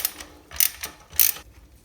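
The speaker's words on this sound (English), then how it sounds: "underneath here you have 9/16 nuts, one on each side. Go ahead and loosen and remove those." Wrench ratcheting as 9/16 nuts are loosened on toilet bolts: a few quick, close clicking bursts, two sharper ones standing out, in a quiet room with no talk.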